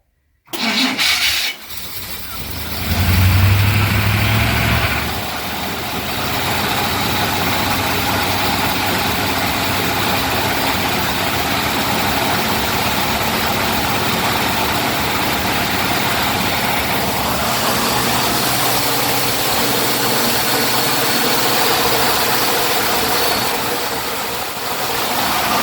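A 1964 Chevy C10 pickup with an automatic choke cranks and catches, blips briefly, then settles into a steady, loud, close idle that runs on alone without talk.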